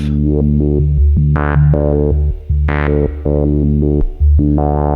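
A buzzy, distorted acid synth line on a Dirtywave M8 plays a choppy sequence of notes, a random LFO on the filter making it jump unpredictably between bright and muffled from note to note.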